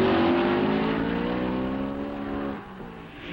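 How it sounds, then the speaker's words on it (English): Ferrari and Maserati race cars on a circuit, a loud whining engine note that holds and then fades as the cars pull away, with no talk. "Into the south turn, the Ferraris of Hawthorne and Collins lead Fangio's Maserati."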